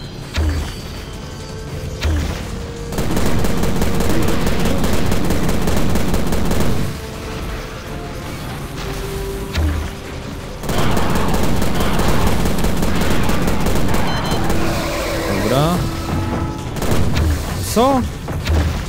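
Rapid bursts of gunfire from the 2006 video game Prey, loud and dense, repeating in long volleys with booms and mechanical clatter, while someone talks over the fighting.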